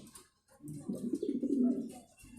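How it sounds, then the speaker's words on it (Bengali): Mundiya pigeons on a farm give a close, rolling low coo that swells and fades over a couple of seconds, with faint chirps in the background. "দেখেন এইখানে আমার আরেক জোড়া কবুতর দেখেন"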